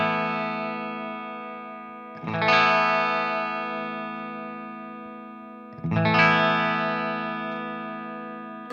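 A Marshall DSL 100 H amp played with a Schecter Banshee guitar rings out two loud, heavily distorted chords, each struck hard and left to sustain and slowly fade before the next.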